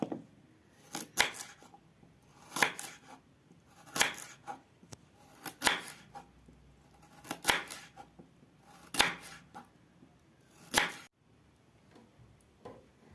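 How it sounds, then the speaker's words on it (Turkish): A knife chops carrots steadily on a cutting board, sharp knocks in small bursts every second or so, close and clear with no talking. "Evet arkadaşlar havuçlarımızı bu şekilde doğruyoruz."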